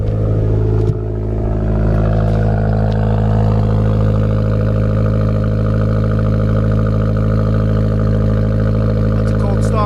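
Abarth car engine idling steadily after a cold start, a loud, continuous low rumble with a slight flutter in the first second before settling into an even drone.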